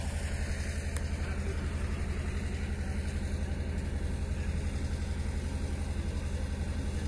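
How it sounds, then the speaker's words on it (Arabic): A diesel-powered water pump drawing from a 93-metre borehole chugs steadily and loudly at close range, with a continuous even rumble and no talking throughout. "الموتور بالمازوت"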